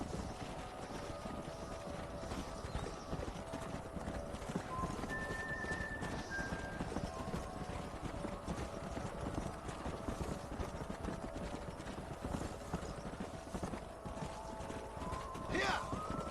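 Horses clip-clopping at a steady trot with occasional neighing in the Red Dead Redemption video game, set against constant wind and ambient noise at a moderate, distant level.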